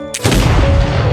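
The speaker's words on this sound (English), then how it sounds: "The gunshot startled Nick" A single loud rifle shot in the wilderness cracks out suddenly after a short quiet moment, followed by a heavy rumbling boom that rolls on to the end.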